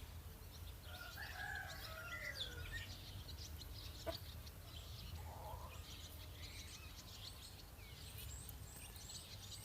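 A rooster crows in the distance amid chirping birds, faint over a low steady outdoor hum, with a few scattered calls following.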